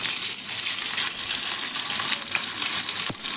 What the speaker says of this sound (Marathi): आपल्या सगळ्या मिरच्या तेलामध्ये सोडून झाल्या आहेत. व्यवस्थित आता तेलामध्ये त्या हलवून घ्यायच्या.